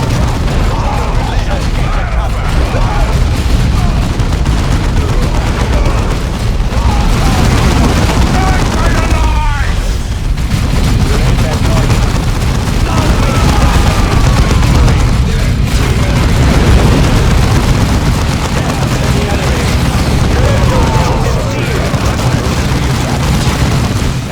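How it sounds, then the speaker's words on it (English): Dense, constant battle din from orcs firing guns in Dawn of War II: loud overlapping gunfire and rumbling blasts fill the whole stretch without a break, with voices mixed into the chaos. "Orcs are firing on us!"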